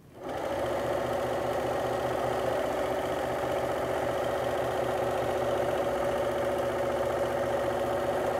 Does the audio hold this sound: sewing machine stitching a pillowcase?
yes